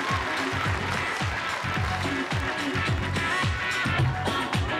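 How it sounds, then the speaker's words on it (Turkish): Audience applause greets two finalist contestants, Adnan and Mehtap, walking onto a Popstar singing-competition stage; steady dense clapping rolls on throughout over rhythmic low music thumps. "Alkışlarınız Adnan ve Mehtap için"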